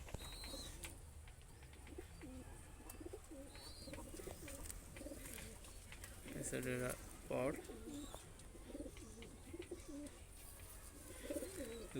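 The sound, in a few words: Madrasi pigeons cooing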